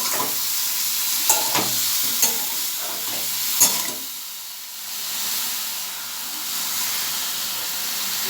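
Ridge gourd frying and being stirred in a pan, a loud close sizzle and hiss with several sharp scraping knocks of the spatula early on, settling into steady steamy frying.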